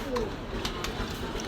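Pigeons coo faintly at an outdoor sale of local Bangladeshi pigeons in Khulna, the soft calls mixed into a constant noisy crowd background with voices nearby.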